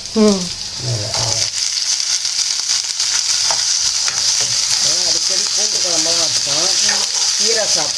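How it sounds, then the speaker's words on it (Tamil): Onion and garlic frying in a pan give a loud, steady, close sizzle throughout, while a voice talks over it. "வந்து வெங்காயத்தை போட்டுக்கிறேன் இந்த பூண்டை இறக்கிக்கிறேன்"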